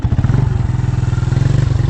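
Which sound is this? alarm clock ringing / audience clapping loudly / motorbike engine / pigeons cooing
motorbike engine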